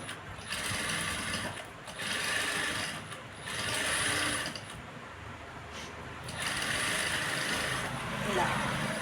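A sewing machine stitches a blouse in close, whirring bursts of a second or two, separated by brief pauses, with the mechanical chatter fairly loud and steady during each run.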